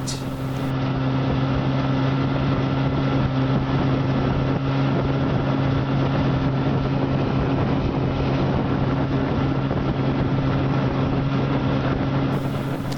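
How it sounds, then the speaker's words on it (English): A 1959 18 HP Johnson outboard motor drones steadily and loudly for the whole stretch, with a constant low hum and no talking. "And as you can see, this old outboard runs great."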